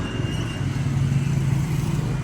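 A Mitsubishi Adventure engine suffering an airlock runs with a steady low idle rumble, close and fairly loud, with no clear stop or restart within the short stretch.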